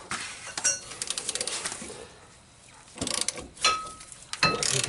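A ratchet with a 3/8 six-point socket loosens axle bolts on a 1998 Nissan Sentra during a passenger-side axle replacement, giving quick close clicking runs with metallic ticks and pauses.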